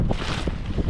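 Gusty wind roars steadily across the microphone, a dense low rumble with no voices.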